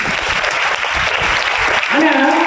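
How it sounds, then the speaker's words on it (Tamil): An audience at an education day event in Salem claps in dense, steady applause that carries through the clip, with a speaker's voice rising over it near the end. "சேலம் மக்களுக்கு ஒரு கைத்தட்டல் கொடுங்க."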